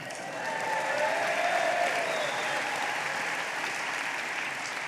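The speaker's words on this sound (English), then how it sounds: "Now, I know why you're applauding." An audience at an SNP party conference applauds, a dense, sustained wash of clapping in a large hall that stays at a steady loud level throughout.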